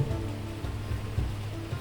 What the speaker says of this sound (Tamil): இவ்வளோ மழை பெய்யுது